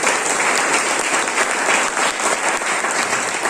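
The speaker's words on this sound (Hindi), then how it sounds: "तो एक बार अपने लिए जोरदार फिर से तालियां बजाएंगे।" A tour group at a Jim Corbett National Park event bursts into loud, dense applause that stays steady and full throughout, with no pauses.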